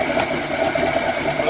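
An old boat engine, unused for twelve years, idles steadily and loudly with a continuous rumbling drone, close and constant throughout.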